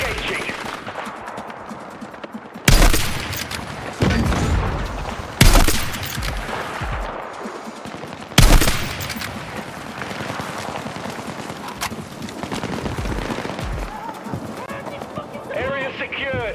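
Bursts of gunfire from the Battlefield 6 campaign, several loud sharp shots and volleys standing out over a steady bed of game sound, with voices talking across much of it.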